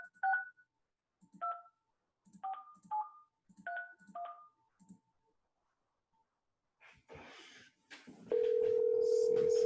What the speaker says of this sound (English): So I'm calling them right now.